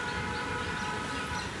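A metro train passing in rainy Kolkata, a faint steady rumble with a sustained hum heard from some distance, brief and without talk.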